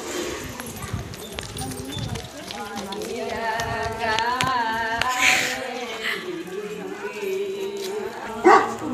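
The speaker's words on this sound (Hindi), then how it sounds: "डॉगी भौंक रहा है।" A dog barks a few times outdoors as a family sets off for a temple puja, the barks mixed in with people talking nearby.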